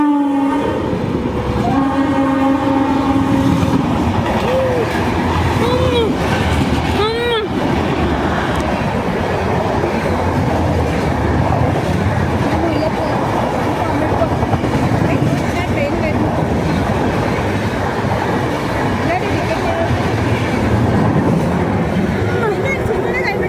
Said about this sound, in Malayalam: അതാ ട്രെയിൻ വരുന്നു ഗൈസ്.